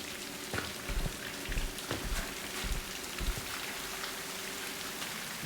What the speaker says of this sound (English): That's kind of weird that the rain is just pouring like that.